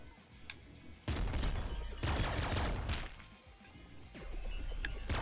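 Rapid, dense gunfire bursts from a heavy weapon in Nuclear Throne, sustained loud volleys with brief lulls, heard alone without talk.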